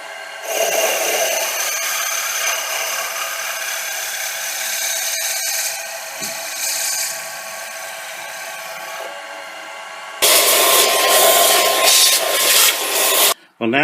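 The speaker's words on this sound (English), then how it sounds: "Now we'll drill that out" A drill bores out and enlarges a hole in a milling vise speeder part, a steady grinding whir running for about ten seconds before a much louder, harsher cutting stretch near the end.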